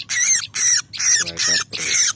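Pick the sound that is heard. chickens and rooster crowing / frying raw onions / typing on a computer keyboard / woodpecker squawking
woodpecker squawking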